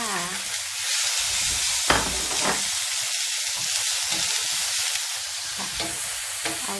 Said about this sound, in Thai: ทอดกุ้งแห้งของเราให้กรอบนะคะ ตามด้วยกระเทียมสับ ถั่วงอกค่ะ